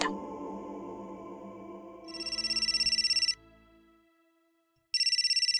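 A phone ringtone trills in two bursts with a pause between, over fading music-like tones.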